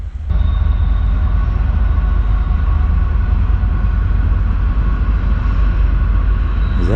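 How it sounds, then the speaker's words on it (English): A train rolls past a cold-weather riverside campsite, a loud, close, sustained rumble and clatter of wheels on rails that holds steady for several seconds, heard alone with no speech. "Train just adds to it, doesn't it?"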